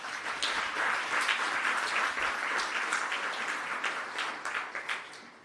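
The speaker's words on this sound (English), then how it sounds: "I would like to ask the audience to give you a round of applause." An audience applauds at an awards ceremony, a dense, steady wash of many hands clapping that holds for several seconds before thinning and fading out near the end.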